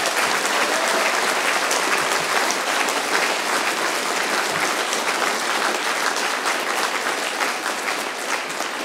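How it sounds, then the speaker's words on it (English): A school opening-ceremony crowd gives sustained, loud applause for Dr. V, with dense continuous clapping throughout and no speech over it. "So let's give Dr. V a big round of applause as well."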